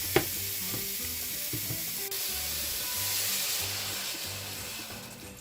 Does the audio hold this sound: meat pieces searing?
yes